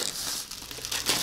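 Crinkling and tearing of the packaging around a packed mango brought back from Egypt, close and continuous for about a second, with a brief louder rustle near the end.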